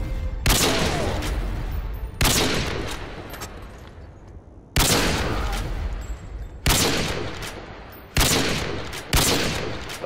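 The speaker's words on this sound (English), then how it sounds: "Dude, Bobo, you actually got shot." Loud gunfire in a shooter video game rings out in heavy, repeated bursts, each sharp blast followed by a long decaying boom, hitting every couple of seconds with no voices.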